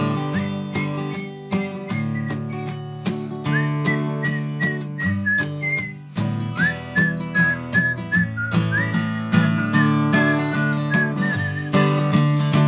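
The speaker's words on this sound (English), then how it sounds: "See if you can whistle with me." A person whistles a melody over bright instrumental music, the tune's notes sustained and clear throughout, close and loud.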